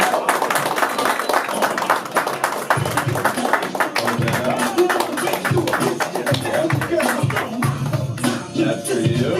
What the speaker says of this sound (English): Ooh, round of applause.